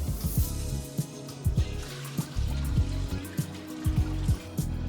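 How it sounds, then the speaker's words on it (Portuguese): Water being poured into an electric dough mixer while preparing dough for savory snacks, heard as a close, continuous splashing trickle with repeated thudding, rhythmic churning from the machine underneath. "vamos iniciar a produção da nossa massa, primeiramente colocando a água"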